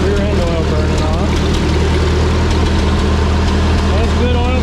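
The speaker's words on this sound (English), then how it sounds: "You give it a choke and it doesn't run too bad. Well, it's running." A 1951 Ford 8N tractor engine runs steadily after being choked, a loud, continuous close-up idle with a low throbbing rumble throughout.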